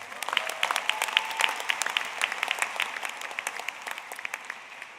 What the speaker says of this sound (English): Let's give Paul one more round of applause.